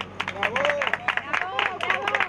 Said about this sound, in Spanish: Muy bien, muy bien. Un aplauso.